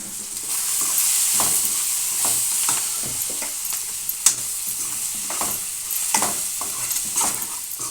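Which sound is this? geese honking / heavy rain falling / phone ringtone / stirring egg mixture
stirring egg mixture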